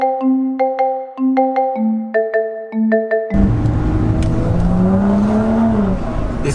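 A BMW M135i engine revs through gear changes, with rising pitch sweeps cut by shifts in a rhythmic pattern, then a rougher, louder continuous engine roar as the car pulls hard.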